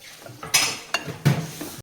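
A spoon stirs cooked Rajasthani chickpea greens inside a metal pressure cooker, producing a few close, sharp scrapes and clinks of metal against metal in quick irregular succession.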